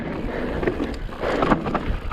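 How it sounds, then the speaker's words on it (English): Wind buffeting the microphone on a rocky mountain bike trail at Comrie Croft in Scotland, a loud, rough, continuous rumble with gusty swells. "A bit of wind."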